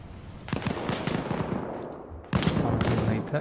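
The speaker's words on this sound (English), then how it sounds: "PM-55 shooting at DJ Lex" PM-55 gunfire in a video game, rapid bursts of close shots with a louder second burst, chaotic and punchy.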